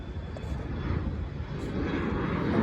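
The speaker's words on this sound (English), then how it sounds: "There's a plane." Airplane passing overhead near Philadelphia International Airport, a loud, continuous engine roar that builds steadily over a few seconds, heard outdoors with no voices.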